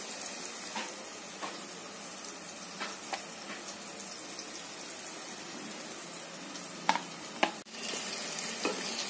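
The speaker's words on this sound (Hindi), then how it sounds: "हमने टमाटर डाल दिया इसमें, अब थोड़ी देर से चलाएंगे जब तक कि टमाटर गल ना जाए" Tomatoes being stirred into fried masala in a pan, a steady soft sizzle with scattered scraping stir strokes and a couple of sharper clinks near the end, no voices.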